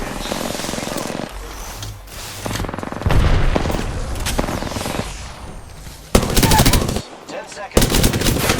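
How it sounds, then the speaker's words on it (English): Enemies fire on the player in the video game Apex Legends, with loud, close bursts of automatic gunfire coming in repeated volleys, separated by brief pauses and other game sounds. "The enemies are shooting at me."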